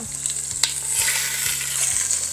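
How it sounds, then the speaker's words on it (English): Steady, loud sizzling of boneless pork chops browning in a hot Instant Pot, a continuous hiss with a few small pops and crackles, no voices. "So we're just going to place these pork chops, can you hear the sizzle?"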